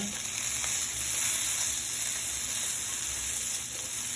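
Oil sizzles steadily in a pan as it is stirred around, a continuous close crackling hiss with no talking.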